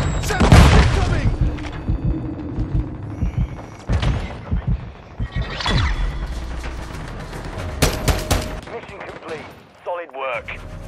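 Call of Duty Modern Warfare 2 multiplayer battle with booming explosions and bursts of gunfire, heavy blasts near the start and scattered impacts after, a voice calling out in between.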